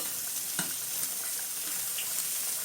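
Plantains fry in a pan over low heat, giving a steady, gentle sizzle with soft crackles and a few faint clinks, close by and continuous without talk.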